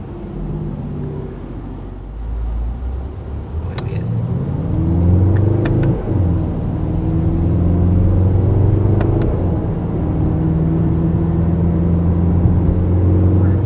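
A 577 hp 2019 Mercedes-AMG GT 63 4-Door drives along, its engine and exhaust giving a deep, loud, steady rumble that rises in pitch as it accelerates, with a few faint clicks along the way.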